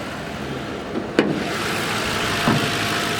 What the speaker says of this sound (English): The engine, once again, is in immaculate running condition and shape.